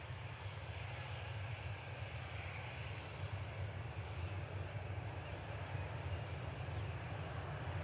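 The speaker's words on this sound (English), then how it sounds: "Another smooth landing." A fixed-wing airliner landing at Reagan National Airport, heard as a steady, broad engine and airflow roar at moderate level, continuous without a clear pass or change in pitch.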